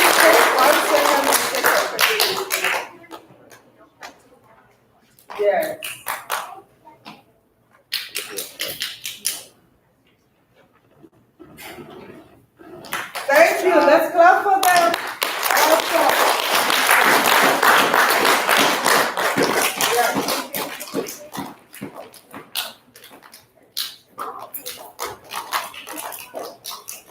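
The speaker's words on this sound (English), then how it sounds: "we can give a big clap to all of third grade" Third grade children clap together in a classroom, with bursts of applause coming and going and a longer sustained stretch of clapping near the end, mixed with children's voices and an adult talking in between.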